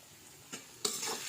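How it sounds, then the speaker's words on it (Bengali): Potatoes seasoned with turmeric and salt fry in a pan over a wood-fired stove, a soft, quiet sizzle broken by a couple of stirring scrapes and a louder burst of frying. "আলুটা আরও হলুদ আর লবণ দিয়ে আলুটা ভালো করে একটু ভাজা ভাজা করে নেব"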